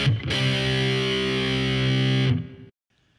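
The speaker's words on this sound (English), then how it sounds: "we're going to play 2 more open palm muted notes before going back into that chromatic power chord progression" Distorted electric guitar from a heavy metal riff, heavy and saturated, rings out as one loud sustained chord for about two seconds before cutting off into near silence.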